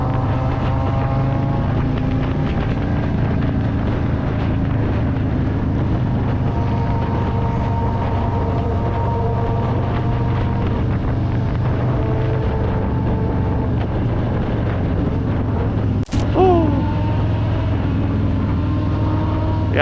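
A Harley-Davidson Heritage Softail on a test ride with a JTEC 25 exhaust gives a loud, continuous deep engine drone that holds steady, with wind rush and a brief sharp knock near the end.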